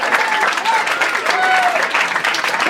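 Applause from the crowd at a marathon winners' honouring ceremony, a dense, steady clatter of clapping that lasts throughout, with voices mixed in.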